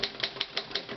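Typewriter keys strike in a quick, fairly even rhythm, about six crisp close clacks in one second with no voices.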